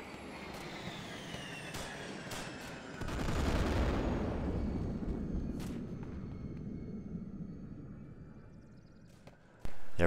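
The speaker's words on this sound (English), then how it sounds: "Airstrike." An airstrike sounds as a low rumbling barrage of explosions and gunfire that swells, rolls on for several seconds and slowly fades, heard from a distance, with a sharp crack at the end.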